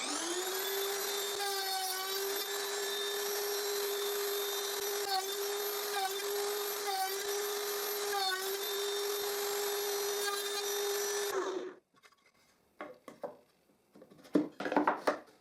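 A router cuts finger joint sockets in a reclaimed wood board, with a loud, steady high whine and repeated cutting bursts that stop abruptly, followed by quieter knocks and handling noises.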